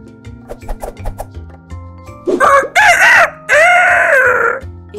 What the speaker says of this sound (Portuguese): Este é o som do galo